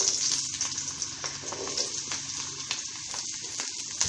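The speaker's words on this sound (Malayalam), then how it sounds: "ഇനി നമുക്കിതിലേക്ക് ഉള്ളി ഇട്ട് കൊടുക്കാം." Red shallots sizzle and crackle in hot oil in a pan while being cooked down for a chilli chutney, a steady close fry with faint stirring scrapes and no talking.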